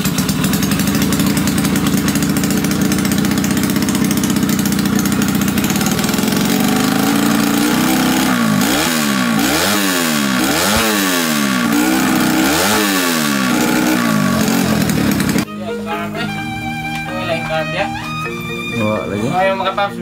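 A 130cc motorcycle engine with a carburetor problem runs loud and rough, with a steady mechanical clatter and uneven revving surges mid-way before dropping off, close by and with no talk over it.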